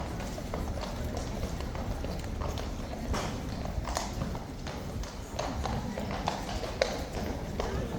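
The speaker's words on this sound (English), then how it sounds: "I like how the horses never seem to fight as to who gets through the gates first" Horses pass through gates at Horse Guards, their hooves clip-clopping in an irregular stream on hard ground, fairly close, with crowd chatter underneath.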